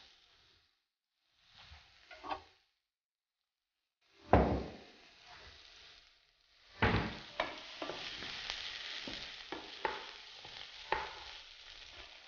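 Onions and chard for a spinach quiche are stirred in a pan, making soft scraping sounds and a steady low sizzle that grows more constant in the second half, with a few brief clatters.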